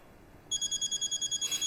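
A phone rings for an incoming call, starting after a short quiet moment with a fast electronic trilling tone repeating steadily and loudly, close by, with no voices.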